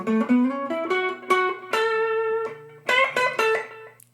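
Guitar playing a solo phrase with a quarter bend, clear sustained picked notes with slight pitch bends, close and alone.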